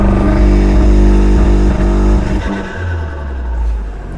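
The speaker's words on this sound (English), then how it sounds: "A lot of people actually don't really like the launch control sound of this car" An IE-tuned VW Golf R holding around 3,000 rpm on launch control, a loud, steady, booming engine drone that drops and wavers as the revs fall away toward the end.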